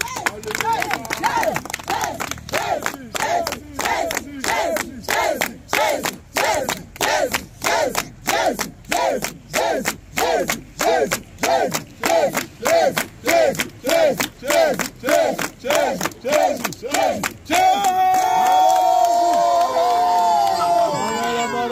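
A large crowd at a Christian mission gathering of the Jesus-Revient group in Savalou, Benin, chants and cheers in a steady rhythmic pulse of loud, repeated shouts, then breaks into sustained cheering at the end.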